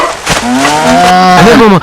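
A cow lowing loudly and close in a rural Tamil farm comedy scene, one long drawn-out moo that rises and bends at the end, with a faint voice briefly underneath.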